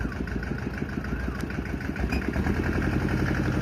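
A used ride-on farm tractor at a Thai dealer idles with a steady, rhythmic low chug close by, the engine running evenly and growing slightly louder toward the end, with no voices.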